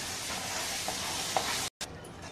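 A mixer-ground spice paste for paya masala sizzles steadily in a hot pan, a continuous loud frying hiss with a brief break near the end.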